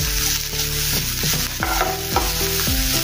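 Oil sizzles steadily as ginger-garlic paste fries in a pan while a spoon stirs and scrapes, with music playing underneath; no one speaks.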